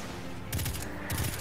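Enemy gunfire in the video game Destiny 2, two short bursts of rapid automatic shots over a steady background hum, fairly close.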